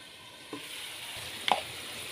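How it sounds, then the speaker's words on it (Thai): Cauliflower stir-fried in a pan with a splash of water sizzles quietly throughout, with two brief scrapes or knocks from the utensil. "ผัดต่อไปเรื่อยๆจนผักใกล้จะสุกเติมน้ำลงไปเล็กน้อย"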